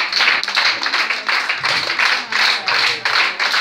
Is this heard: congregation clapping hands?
yes